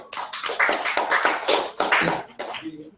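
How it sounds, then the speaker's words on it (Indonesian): A short round of applause from a small group, loose, uneven claps close by that thin out and fade near the end. "Tepuk tangan untuk Mas Alvin dulu."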